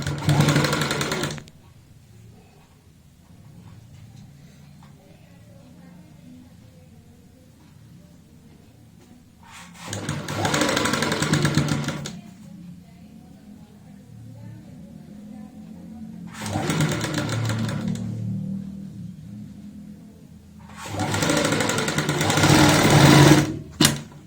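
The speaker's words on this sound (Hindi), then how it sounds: "और यहाँ पे हम बराबर फोल्ड करते हुए सिलाई लगाएंगे।" A sewing machine stitches a folded neck strip on a garment in four separate loud bursts of fast, rattling stitching, each a couple of seconds long, with quiet handling and faint background hum between runs.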